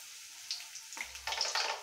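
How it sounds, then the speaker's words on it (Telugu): Vada batter is dropped into hot oil, bringing a sudden rise in close, bright sizzling and bubbling frying over a steady background hiss. "ఆయిల్ కొంచెం హీట్ అయిన తర్వాత అందులో కలిపిన పిండి వడలు వేసుకోవాలండి"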